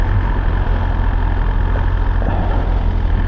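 A BMW S1000RR sport motorcycle engine runs steadily and loudly in rain mode, a constant rumbling drone with no pauses or speech.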